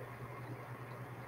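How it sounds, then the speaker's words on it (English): Electric fan running quietly in a hot room, a faint steady hum with soft airy hiss and no talk over it. "that's because I have a fan going"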